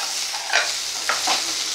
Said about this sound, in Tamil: கொஞ்சம் எண்ணெயில் வதக்கிக்கோங்க.